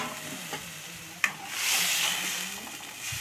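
Fish sautéing in hot oil with cumin seeds gives a steady close sizzle with a sharp spatula clack near the start and the frying swelling louder midway.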